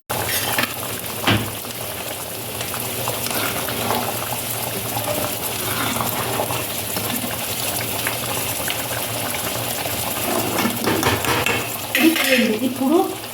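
Chana dal and papad curry simmering in a pan, with a spoon stirring and scraping against the metal cookware over a steady bubbling sizzle, a few louder clanks early and late.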